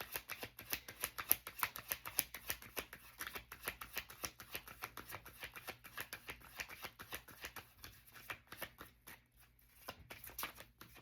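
A deck of cards is shuffled repeatedly, soft rapid riffling bursts in a quick rhythmic series, faint and close, with brief pauses between riffles.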